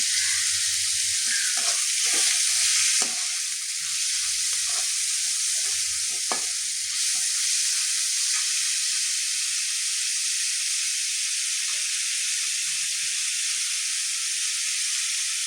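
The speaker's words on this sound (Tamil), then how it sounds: "கொஞ்சம் எண்ணெய் ஊற்றிக்கிறேன். வெங்காயம் நல்லா வதங்கட்டும்." Onions sautéing in oil in a pan for a goat boti fry, a steady broadband sizzle with a few stirring clicks early on, close and continuous throughout with no talking.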